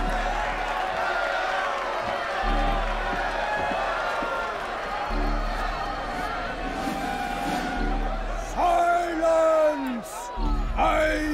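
A dense, steady murmur of a crowd in Jerusalem from the Assassin's Creed video game, with voices blending into a continuous hum; a louder speaking voice rises above it near the end.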